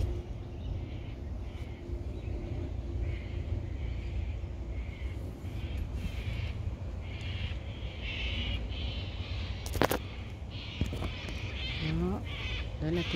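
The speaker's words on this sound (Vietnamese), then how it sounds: "cockatoo đấy, gầm rất to." Cockatoo calling among blossoming trees in Sydney, a series of harsh raucous squawks repeating over steady low outdoor rumble, with a few louder cries near the end and talk mixed in.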